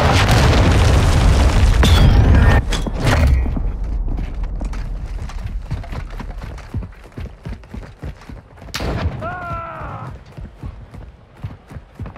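A flashbang grenade detonates in Call of Duty Modern Warfare 2 during team deathmatch, a loud booming blast at the start that fades into a ringing tail and scattered gunfire and footsteps.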